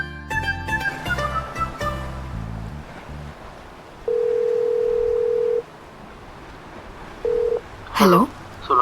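A phone being called plays a long steady electronic tone followed by a shorter repeat of the same tone, with tonal sounds before it and a brief sweeping sound near the end.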